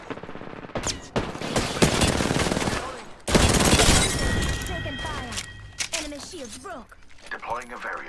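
Gunfire and shattering impacts in the battle royale game Apex Legends, with dense bursts of shots that stop abruptly around three seconds, then resume loudly, mixed under speech throughout.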